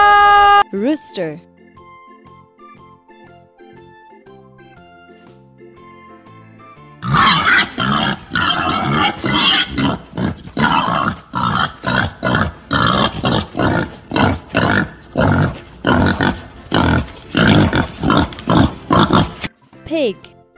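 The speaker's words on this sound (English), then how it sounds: "Pig." Rapid, loud pig grunts and oinks repeat in a steady rhythm over a backing tune, after a quieter musical opening.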